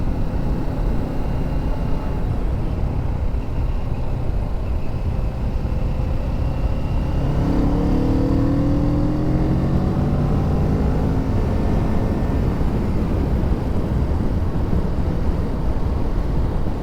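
A Kawasaki Ninja 650 is ridden along twisty roads, steady wind roar over an engine drone, with gliding pitch sweeps near the middle as the revs change; no talking.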